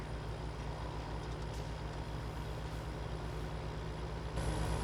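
Steady low rumble of a log-laden truck engine in Farming Simulator 17, droning continuously at a constant, moderately loud level with a slight rise in intensity near the end, no talking.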